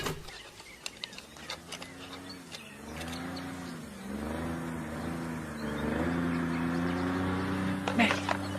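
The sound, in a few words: engine noise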